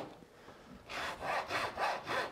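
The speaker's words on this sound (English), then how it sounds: "Just let the saw touch the knife line, and we're sawing plumb straight down." Hand saw cutting plumb down along a knife line in wood while making small drawers, four steady rhythmic back-and-forth strokes, close and clear, with no talking.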